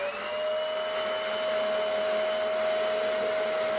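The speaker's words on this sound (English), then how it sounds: "today I'm going to tell you about my homemade vacuum forming machine" Homemade vacuum forming machine running: a loud, steady motor roar with a high whine that holds constant throughout, nothing else audible.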